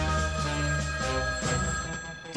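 A cartoon telephone rings in an animated action series, a steady electronic ringtone with repeating pulses filling the whole moment at close, even loudness.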